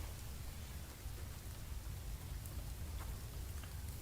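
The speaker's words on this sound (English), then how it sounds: "Right, misty and raining." Steady rain falls in the survival video game The Infected, a soft continuous hiss with a low rumble and faint scattered drips, and nobody talks.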